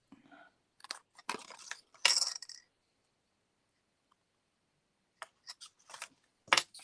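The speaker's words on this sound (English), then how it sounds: "I'm just going to snip it." Scissors snipping through craft card, several short crisp cuts in two close clusters separated by a quiet gap, faint and near.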